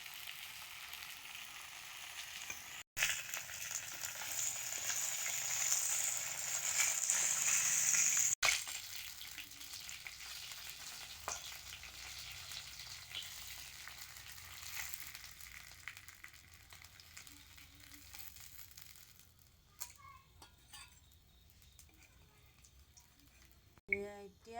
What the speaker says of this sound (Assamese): এতিয়া অলপ এনেকৈ ভাজি লওঁ।